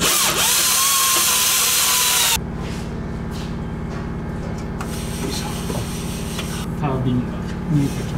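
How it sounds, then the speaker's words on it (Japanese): A power tool spins off the last nut on the first catalytic converter of a Nissan R35 GT-R in a garage: a loud, harsh burst for about two seconds, followed by quieter clinks and shop noise as voices talk. "じゃあ第1触媒、最後のナットを外します。"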